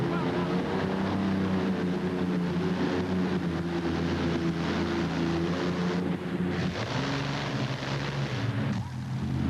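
A V12 pulling tractor engine gives a loud, steady roar with strong low harmonics for the whole stretch, dipping briefly near the end, with faint crowd noise from a 1988 tractor pull mixed in.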